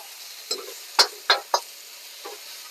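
Mung bean sprouts are stir-fried in a hot non-stick pan, with a few quick scraping stirs and clinks of the utensil over a faint background sizzle, close and fairly quiet.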